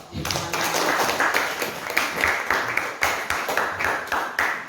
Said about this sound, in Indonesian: Oke, bagus. Beri aplaus.